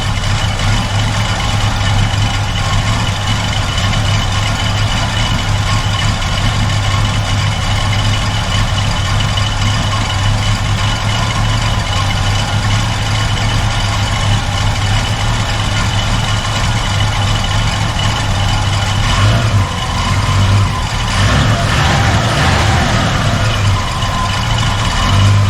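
A cold V8-style engine in a 1976 Chevy Nova idles with a steady, deep rumble and a slightly uneven, loping note near the end, loud and continuous, with no voices.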